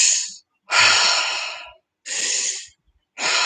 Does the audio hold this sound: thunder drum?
no